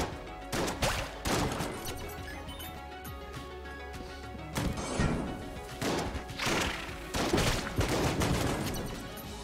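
Gunfire in the dungeon-crawler game Enter the Gungeon sounds as irregular bursts of shots and impact crashes at moderate volume, clustered in several uneven volleys.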